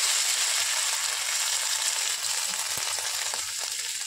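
Mashed paneer fries in a spoonful of hot coconut oil, a steady close bright sizzle with faint stirring clicks and no voices.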